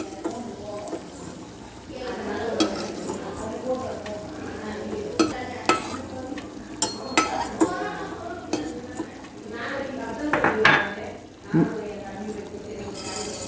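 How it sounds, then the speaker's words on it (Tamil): Vermicelli being fried in ghee for coconut milk payasam, a continuous sizzle with scraping and clinking as it is stirred in the pan, while someone talks over it. "அந்த நெய்லேயே சேமியாவையும் வறுத்து எடுப்பேன்"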